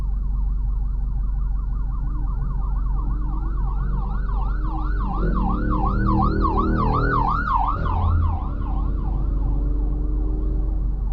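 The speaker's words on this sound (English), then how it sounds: "We got a ambulance coming up behind us." An ambulance siren wails in a steady rising-and-falling cycle, growing louder as it approaches from behind, over the hum of a 2022 Subaru WRX's engine.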